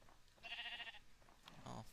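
Sheep bleating in the video game Minecraft: two short, close bleats, a bright wavering cry followed by a lower, rougher one after a brief pause, with no talk.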